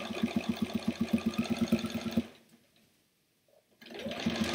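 A sewing machine runs in a fast, even thumping rhythm for about two seconds, stops into near silence, then starts again, close and clear with no talking.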